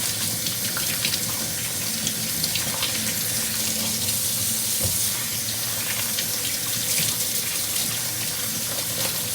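Water runs steadily from a kitchen tap into a sink while something is washed, a close, continuous splashing rush with small spattering changes.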